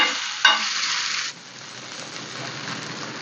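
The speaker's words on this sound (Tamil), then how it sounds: "இப்போ முட்டையை திருப்பி போடுறோம்" Egg omelette frying in a pan just after being flipped: a loud bright sizzle with a sharp flare as the egg lands, then dropping to a steadier, quieter crackle, no voices.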